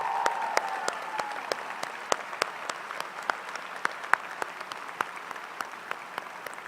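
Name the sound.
audience applause for faculty and staff at a ceremony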